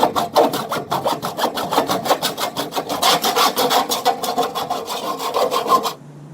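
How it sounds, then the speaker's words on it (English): Hacksaw cutting through an aluminum gutter downspout held between the legs, with rapid, even rasping back-and-forth strokes, loud and close, stopping abruptly at the end. "I like to use a hacksaw."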